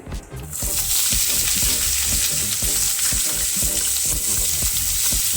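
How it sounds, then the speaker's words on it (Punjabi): Finely chopped onions fry with cumin in a pan, a loud, steady sizzle punctuated by regular stirring clicks and scrapes, heard up close with no speech. "ਪਿਆਜ਼ਾਂ ਨੂੰ ਆਪਾਂ ਭੁੰਨ ਲਵਾਂਗੇ"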